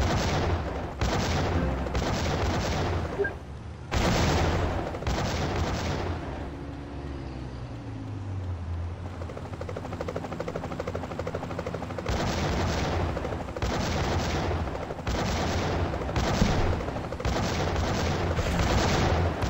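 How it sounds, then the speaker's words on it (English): Rapid bursts of gunfire aimed at a helicopter in GTA Chinatown Wars, repeated loud volleys in clustered stretches with a lower rumbling engine drone in the pause between, no talking. "Bullets won't damage Zhao's helicopter"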